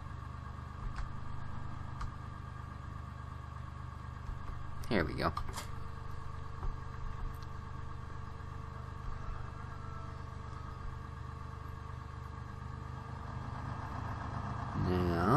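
A tractor engine in Farming Simulator 2013 hums steadily at low idle throughout, with brief clanks of the rear three-point hitch midway and someone talking over it.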